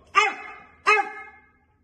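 Two loud, close barks, about half a second apart, made by a human voice imitating a dog.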